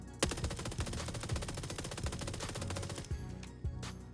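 Rapid pistol fire with a laser sight attached in PUBG, a steady stream of sharp, evenly spaced shots close and loud for about three seconds, then a few isolated louder cracks.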